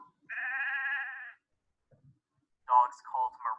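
A sheep lets out one long, wavering bleat, clear and fairly close, then after a quiet gap a few shorter, rougher bleat-like calls follow.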